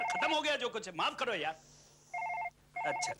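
Telephone ringing in a Hindi-language horror drama scene, two short ring bursts heard after a stretch of talk, moderately loud and close.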